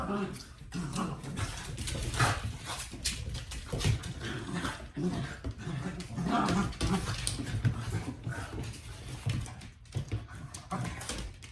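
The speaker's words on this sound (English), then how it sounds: "And he is your typical hound dog." A hound dog howls and bays in long drawn-out calls with a few barks, close and loud, with a person speaking over it.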